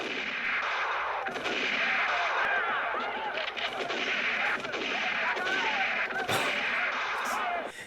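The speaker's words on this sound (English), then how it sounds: "He's shooting these fellas' hats off." Film soundtrack gunfire from the 1966 western The Good, the Bad and the Ugly, shots cracking over dense background music and ambience, with a sharp louder report near the end.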